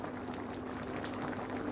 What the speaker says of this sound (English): Cover it and let's boil for about 5 minutes.